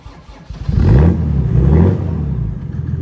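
A Mercedes 280SE W108 with a swapped OM606 diesel engine and full stainless steel exhaust starts up with a deep, throaty note, revving briefly and then holding a steady low idle close by.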